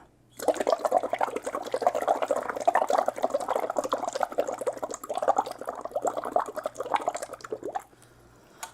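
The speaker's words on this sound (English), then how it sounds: "So I'm gonna blow my air here." Breath is blown into water, producing a close, loud, continuous bubbling that lasts about seven seconds before cutting off abruptly.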